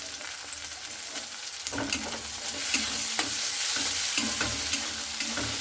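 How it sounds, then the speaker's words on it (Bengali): Garlic added to onions frying in a pan for a chicken dish, sizzling steadily with repeated scrapes and stirs of a utensil, close and continuous with no talk. "রসুনটাও আমি এইভাবে ভেজে নেব খুব ভালো করে।"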